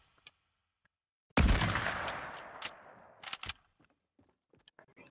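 A single sharp sniper shot in the video game Fortnite cracks loudly and decays into a rumbling tail, followed by a few faint clicks.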